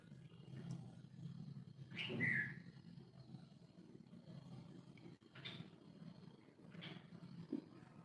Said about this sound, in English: can you hear the birds chirping in the background?